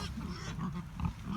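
Large farm pigs grunt and snuffle close by in a pen, a low rumbling series of short grunts running throughout.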